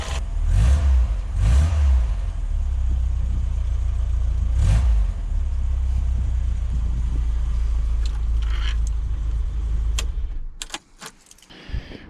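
A car engine runs nearby at a low, steady idle with a few louder bursts early on, then fades out near the end, leaving several sharp clicks and knocks.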